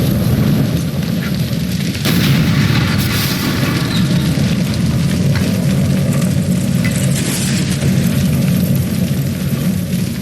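A gas light shot in L.A. Noire sets off a gas explosion, a loud sustained roaring blast that keeps rumbling and crackling like fire for about ten seconds, with a sharp burst near the start.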